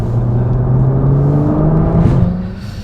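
Nissan GTR with a V6 twin-turbo engine and Fi exhaust revving, a loud close tonal engine drone that rises briefly near the end and then fades.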